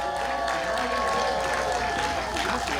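Audience applause at an outdoor civic cultural festival in Changwon, a steady wash of many hands clapping with crowd noise and a faint voice mixed in, sustained throughout.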